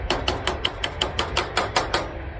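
Hammer blows on a bolt of a Powder River squeeze chute during a repair, about eleven sharp metallic strikes in a quick, steady rhythm, close and loud, with no talking.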